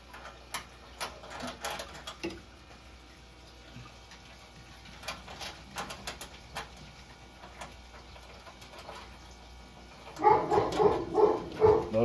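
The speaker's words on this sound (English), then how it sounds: "The dog's freaking out. He does not like the UPS guy" A dog barks in agitated bursts at a UPS delivery driver arriving at the house, with scattered yaps early on and a louder, rapid cluster of barks near the end, alone without talk.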